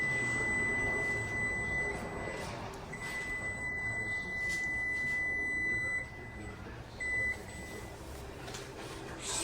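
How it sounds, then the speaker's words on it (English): A kitchen timer gives a steady, high-pitched electronic beeping in long sustained tones with short breaks, over a constant low hum of background noise. "So the timer is about to go off."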